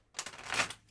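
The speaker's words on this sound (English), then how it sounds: "I think I've shuffled these enough for the water signs" Tarot cards shuffled in the hands, a single quick riffling burst of papery flutters lasting under a second, close and clear with no talk.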